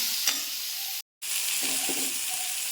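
Coconut-based Kerala crab curry masala frying in a pan on lowered flame, a steady close sizzle throughout with a brief silent gap and light stirring scrapes.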